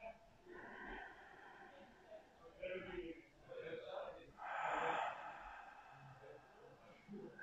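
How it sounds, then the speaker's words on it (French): A slow, gentle inhale through the nose during a face yoga breathing exercise, soft and close, with a fuller airy breath swelling midway through a quiet stretch. "Inspirez par le nez."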